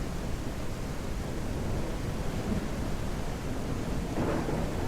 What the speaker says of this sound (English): I really like when it strikes lightning like behind the mountains.